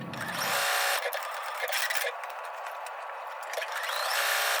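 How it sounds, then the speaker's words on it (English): A domestic sewing machine runs a satin stitch on quilt fabric, a steady close mechanical whirr that revs in bursts, briefly pausing and speeding up, with no talk. "Now for the beaters and the plug ends, I'm going to be using a satin stitch on the machine."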